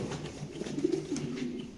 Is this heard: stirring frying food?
no